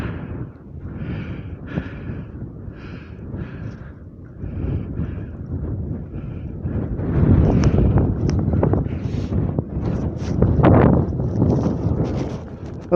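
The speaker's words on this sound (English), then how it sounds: "it is extremely windy" Strong wind just after sunset buffets the microphone in rumbling gusts, growing rougher and louder toward the middle and end, with faint breathing underneath.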